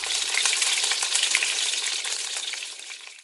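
Steady, close sizzling and crackling of fish frying in a hot pan, loud and continuous throughout with no talking.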